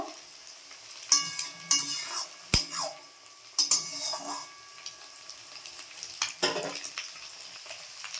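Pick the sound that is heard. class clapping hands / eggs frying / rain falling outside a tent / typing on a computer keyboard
eggs frying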